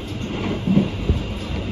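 KA Taksaka passenger train running on rails at speed, a loud steady rumble with a couple of faint wheel clacks, heard from inside the carriage.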